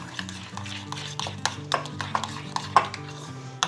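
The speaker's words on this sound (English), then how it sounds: "I'm going to use my spoon now to stir. Get this all mixed up really well." A metal spoon stirs deviled egg yolk filling in a bowl, giving a series of close, soft scrapes and light clinks against the bowl in an uneven rhythm, with faint background hum and no talking.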